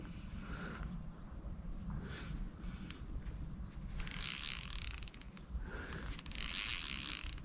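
A singing fishing reel drag clutch whirs steadily while a trophy chub pulls line, giving a close, continuous ratcheting buzz that rises and grows louder in two long surges.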